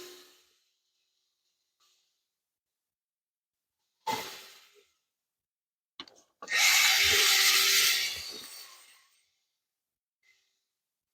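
A short whir of a power sander grinding the aluminum skin of a Learjet for a couple of seconds, preceded by a brief scrape, with silence between.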